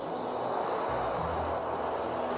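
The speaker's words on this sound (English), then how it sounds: "it's not a very big plane, is it?" Steady engine drone from a small passenger plane flying to the Outer Hebrides, a continuous broadband roar with a low hum, heard from inside the cabin with no talking.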